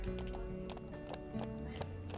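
Horse hooves clip-clop at a steady walking rhythm in a video game, accompanied by an occasional soft whinny and ambient background tones.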